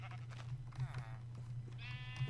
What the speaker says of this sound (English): We've got the sheep.